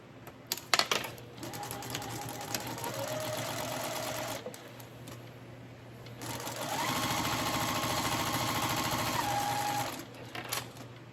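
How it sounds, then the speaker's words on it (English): A loud sewing machine stitches a seam on basket liner fabric in two sustained bursts of rapid mechanical whirring, separated by a short pause with a few clicks and handling taps. "Okay, so now I am going to sew this seam"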